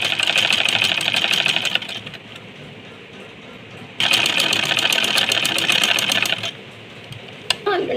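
A sewing machine stitches pleats into fabric in two steady bursts of fast, rattling whirring, close and loud, separated by a quieter pause with a faint hum, then a brief click at the end.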